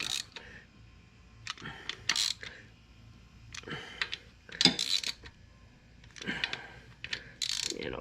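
A 3/8 drive ratchet tightens the clutch assembly on a Grizzly 550 ATV in a garage, with several bursts of quick metallic clicking separated by short pauses, close and fairly loud.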